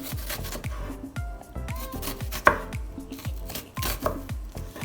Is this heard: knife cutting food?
yes